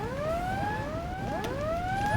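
Air-raid sirens in the strategy video game Hearts of Iron IV: several overlapping wailing tones rising and falling together, loud and continuous throughout with no talk.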